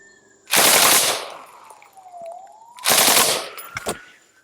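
Two loud, sharp 5.56 M193 55-grain rifle shots fired from a Colt LMG with a 20-inch barrel strike a Level IV ceramic armor plate outdoors, spaced about two seconds apart, each followed by a brief ringing decay.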